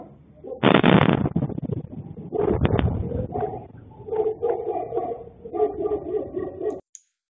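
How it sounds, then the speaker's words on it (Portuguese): An explosion recorded near Rostov-on-Don strikes as a sudden loud, distorting blast, followed by several seconds of rumbling, crackling reverberation and scattered lesser bangs before cutting off. "Deu para ver o barulho de explosão,"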